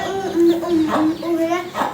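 A hen clucks close by in short, rising and falling calls, mixed with a person talking over it.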